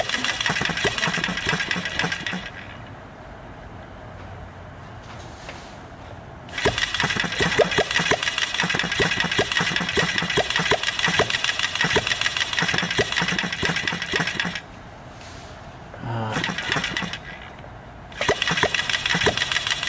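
An HM-01 kit model engine, with its fat needle set 3/4 turn open and the choke a few notches in, runs in loud buzzing bursts that repeatedly cut out and surge back, with quiet gaps between the runs.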